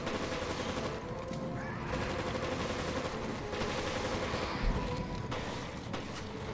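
Repeated gunfire from a shotgun in Resident Evil Revelations, a rapid, busy stream of loud shots running continuously over several seconds with no talking.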